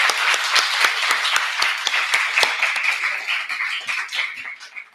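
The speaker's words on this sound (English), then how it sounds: "pido un otro round of applause para Morgan y Alonso." Audience applause after a scholarship and financial aid presentation, with dense clapping from many hands that stays steady and loud, then thins and tapers toward the end.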